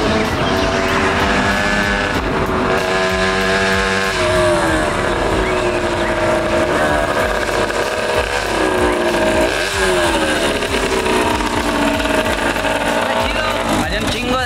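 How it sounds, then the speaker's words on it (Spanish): A small motorcycle engine whines and revs continuously, its pitch rising and falling with throttle changes, loud and close throughout. "Hay un chingo de ruido esa motito,"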